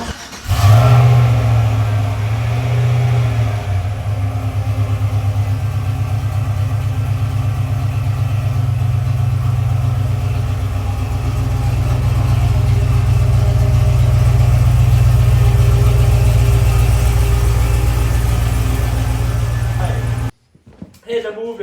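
An LS-swapped Squarebody dually truck engine runs loud and close, rising with revs and then settling into a steady idle for about twenty seconds before cutting off abruptly.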